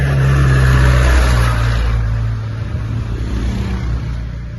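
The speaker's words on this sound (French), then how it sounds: "on n'y coupe pas la circulation et le bruit" Road traffic near a roadside in Baguio, with a loud close engine drone that passes and slowly recedes into a lower steady rumble of passing vehicles.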